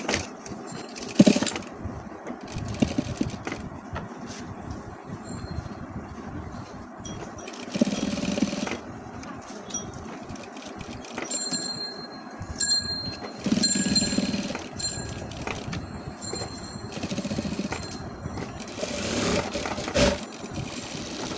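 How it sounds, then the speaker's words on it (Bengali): A sewing machine top-stitches a kabuli pocket flap in a tailoring workspace, running in several short and longer whirring bursts with pauses between, close and moderately loud. "এবার উপরে চাপ সেলাইটা দিয়ে নিব।"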